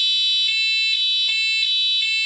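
A shrill electric buzzer used for Rotax engine ignition timing sounds continuously as the cam position changes, its harsh tone pulsing slightly in a regular rhythm, loud and close.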